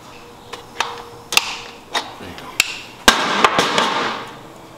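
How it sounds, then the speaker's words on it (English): A bolt cutter cuts a part on a Harley-Davidson M8 engine during a torque cam install, giving a series of sharp metallic snaps and clacks close by that grow busier toward the end. "You want to use a bolt cutter"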